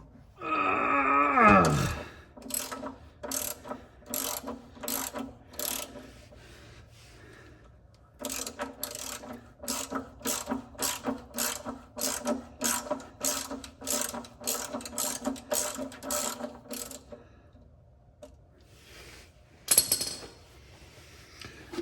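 A ratchet with an extension loosens the oil drain plug on a 1994 Ford F350 with a 5.8-liter 351 engine: a strained creak first, then long runs of quick, close metallic clicks with short pauses between strokes.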